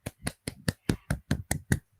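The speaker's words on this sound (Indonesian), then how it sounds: "Ya, tepuk tangan untuk Saharul." In a classroom peer-teaching session, hands clap in a quick, even rhythm, about ten crisp, close claps in two seconds, with no speech over them.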